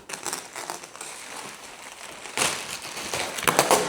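Crinkly plastic wrap being pulled off a box and crumpled up close, in irregular rustling bursts that grow louder toward the end.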